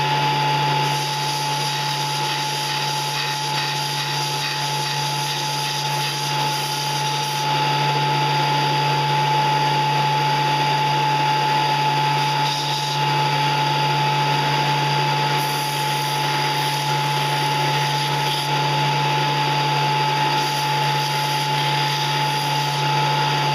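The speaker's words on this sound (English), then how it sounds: "put little notches in it by using the top of the belt sander" A belt sander roughs up a 3/4-inch PVC pipe fitting, giving a loud, steady mechanical whine and hum for the whole stretch, with the scraping changing slightly in places as the plastic is pressed against the belt.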